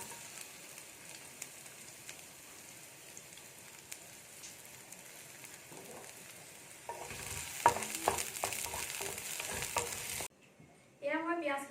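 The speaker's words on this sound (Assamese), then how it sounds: "এয়া মই পিঁয়াজখিনি দি প্ৰায় 1 মিনিটমান সময় ভাজি ল'লোঁ" Onions fry in hot oil for a fish curry with bathua greens, giving a steady close sizzle, then utensil clatter and stirring scrapes, a brief near-silent break and a renewed crackle.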